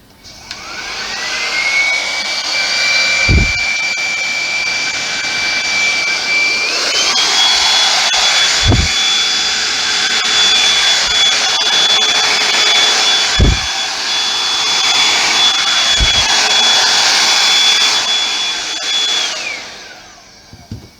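Torch flame blowing steadily over a pink acrylic paint pour, a loud close roaring hiss with a high tonal whine that steps up in pitch, punctuated by a few soft knocks.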